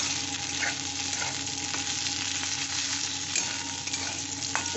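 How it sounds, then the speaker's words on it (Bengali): Spices fry in a pan for a spiced fish dry curry, a dense steady sizzle with occasional stirring scrapes and small crackles, close and continuous with no talking. "আর একটু ভাজা হবে সামান্য, একদম লাল লাল হবে না,"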